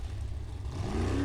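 Formula offroad car at an Icelandic competition in Blönduós, engine rumbling steadily and revving higher toward the end as it pulls away, loud and fairly close with no talk.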